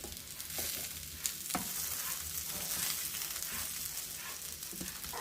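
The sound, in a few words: banana rava fry frying in a pan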